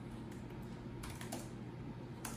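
Light typing on a computer keyboard with a few scattered key clicks over steady room hum, fairly quiet and close.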